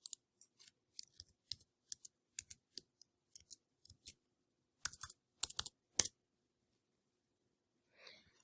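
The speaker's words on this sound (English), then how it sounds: "And then I'm just going to type in my password and everything." A password is typed on a computer keyboard, irregular soft clicks of individual keystrokes coming in short bursts and pauses, close and quiet with no talking.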